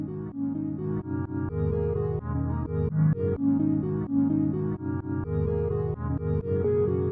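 A melody is played on a keyboard from a sample pitched down twelve semitones, a deep, thick tone stepping through sustained notes in an even rhythm, loud and alone.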